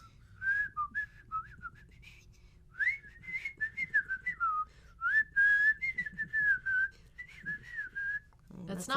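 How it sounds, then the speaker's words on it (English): A person whistles a wandering melody in short phrases, close and clear, with a brief noise at the end. "Yeah, I can whistle. Hear that?"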